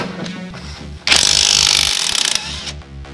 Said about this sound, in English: We actually have to take this bolt out too.